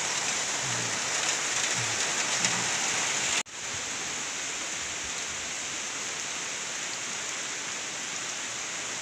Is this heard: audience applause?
no